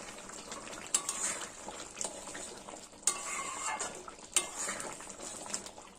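Chicken cooking with ghee is stirred in a pan, a steady sizzle under scraping strokes and occasional sharp clinks of a spoon against the metal, close and continuous.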